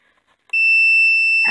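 Multimeter continuity tester emitting a single loud, steady electronic beep while checking a ground wire to the shift solenoid on a Ford Explorer, preceded by faint clicks and ending with a brief rustle.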